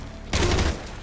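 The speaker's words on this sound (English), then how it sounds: "How do I use the assault rifle?" A short, dense burst of assault rifle fire in Metal Gear Solid Delta, a loud rapid volley lasting under half a second over a low background hum.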